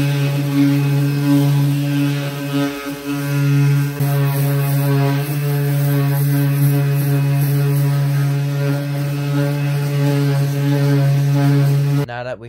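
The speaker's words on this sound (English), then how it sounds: "We're going to sand it down with the electric sander" Electric sander working on a Subaru Impreza bumper in a workshop, a steady loud motor drone with a strong low hum running continuously for about twelve seconds before cutting off abruptly.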